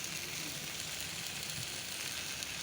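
Pointed gourd and potato dry-fry in a pan with no water added, giving a steady, even sizzle that is continuous and moderately loud, with no talk over it.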